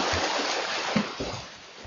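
About 71 triathlon swimmers splash and churn the water close by, with a rush of broadband turbulence and a few heavier slaps of strokes.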